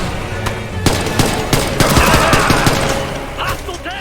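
Assault rifle fire in Ghost Recon Future Soldier, a dense battle mix of rapid bursts and scattered sharp shots, loud and near, with faint shouting voices mixed in.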